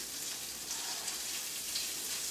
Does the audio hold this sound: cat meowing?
no